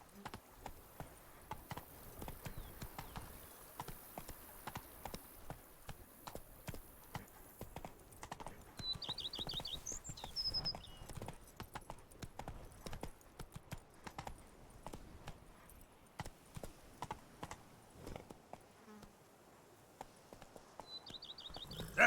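Horse hooves from The Witcher video game beat a steady, rhythmic clip-clop of galloping throughout, fairly close and continuous, with faint game ambience and occasional soft bird chirps.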